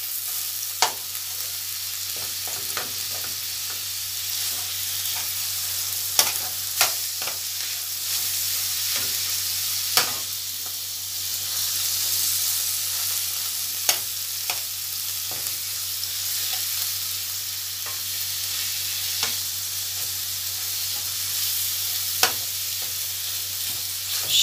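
Minced meat filling for a roqaq pastry being sautéed in a spoonful of oil, a continuous close sizzle with scattered sharp taps and scrapes of a spoon against the pan, no talking throughout.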